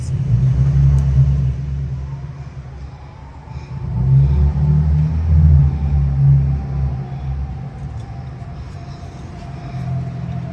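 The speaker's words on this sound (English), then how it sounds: "Sorry about all the noise. We have a lot of sports SUVs coming in here." Low engine rumble from sports SUVs idling and revving nearby, swelling and fading in waves over a steady background hum.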